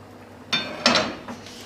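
A lid is set over a pot of white chickpea cholay curry, giving two or three quick close metallic clinks in a quiet kitchen.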